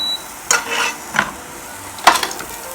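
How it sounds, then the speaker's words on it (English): Onions and garlic hitting hot olive oil in a pan, giving a few short bursts of sizzle and stirring scrapes separated by quieter gaps, with no talk. "We'll get a little olive oil in our pan. And that'll heat up in just a second. And we'll get our onions and garlic right in there."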